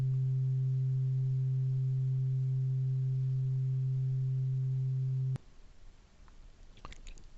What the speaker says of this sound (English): The oscillator produces the tones that we hear.